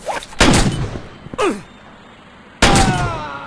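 Gunfire in a Western gunfighter video game: three loud, sharp blasts about a second apart, each with a brief ringing tail, with no one speaking.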